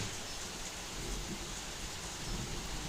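Steady rain falls outside, a dense, even hiss that continues unbroken with no voices.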